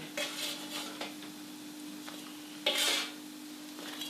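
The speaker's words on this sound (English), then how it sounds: "I'm using a palette knife to lift them off the tray, and this is a non-stick tray." A palette knife scrapes and clinks against a non-stick baking tray as scones are lifted off, a few light metallic taps and short scrapes, close and quiet.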